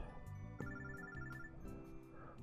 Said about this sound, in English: the phone droid in my bag starts to ring